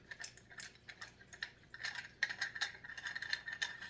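A plastic 1/4 inch thickness ring being screwed onto a rolling pin, giving close, quiet ratcheting clicks and small rattles in a rapid, uneven sequence.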